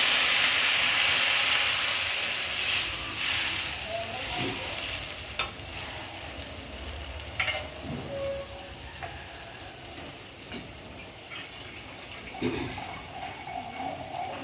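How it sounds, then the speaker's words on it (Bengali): Water poured into a pan of fried vegetables for a Bengali shukto sets off a burst of sizzling and hissing steam that gradually settles, with occasional stirring clinks and scrapes against the pan. "সবজি ভেজে নিয়েছি, এবার আমি জল দিয়ে দেবো।"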